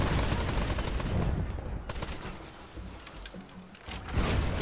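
Rapid gunfire bursts and shots in the naval pirate video game Blazing Sails, loud and dense throughout, with machine-gun-like rattling over a busy game soundscape.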